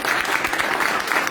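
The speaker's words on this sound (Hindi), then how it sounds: "एक बार जबरदस्त तालियां" A brief burst of full, enthusiastic crowd applause at a Hindi direct-selling business meeting, dense and loud throughout.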